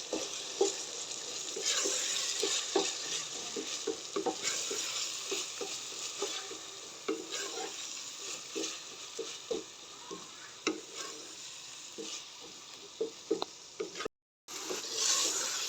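A spoon stirs mashed, fire-roasted brinjal bharta in a hot pan, giving a soft sizzle with repeated scraping clicks at an uneven rhythm, close and moderately quiet. The sound cuts out briefly near the end, with no talking.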